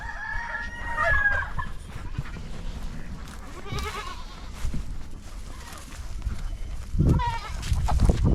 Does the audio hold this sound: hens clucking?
yes